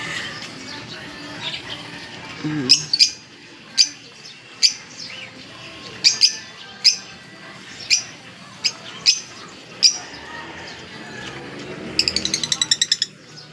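Birds chirp and call in sharp, scattered bursts over a soft background, with a quick rattling trill near the end.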